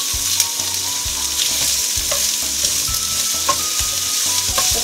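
Zucchini sautéing in a pan alongside shallots and garlic, a loud, close, continuous sizzle with a rhythmic knocking of stirring against the pan and no talking.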